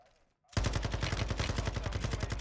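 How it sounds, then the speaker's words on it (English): Sniper rifle gunfire in the video game Modern Warfare 2: after a short quiet moment, a loud, close, continuous string of rapid shots fills the rest of the clip. "I was going to try and snipe them, yeah, because I have a sniper rifle."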